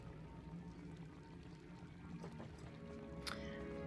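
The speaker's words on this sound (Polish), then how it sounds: "O, chyba coś tu łaziło, albo nie, to woda." Water in Pillars of Eternity II: Deadfire, a faint, steady pouring and trickling stream in a quiet scene, with a few soft drips and splashes near the end.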